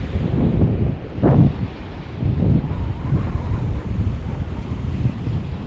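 Ocean waves wash onto a beach in fading evening light, a low rumbling surf with a few swells rising and receding, mixed with wind buffeting the microphone.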